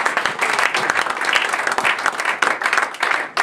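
A church congregation claps and applauds loudly and continuously, a dense close burst of many hands with a few brief dips, no talk over it.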